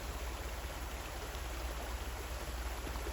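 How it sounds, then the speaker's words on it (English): Creek water flowing at a crossing in Rattlesnake Canyon under an oak canopy, a continuous close rushing wash with no voices over it. "Now we're going to cross this creek and get back onto the path."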